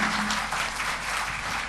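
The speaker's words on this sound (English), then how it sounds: "Let us give big applause to Dr." A conference audience applauds a speaker at an international health conference. The clapping is continuous and moderately distant and fairly quiet, with no speech over it.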